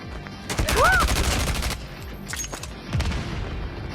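Counter-Strike gameplay with bursts of gunfire cracking out in quick rapid volleys, loud and sharp, then a second short burst after a pause, with game effects in between.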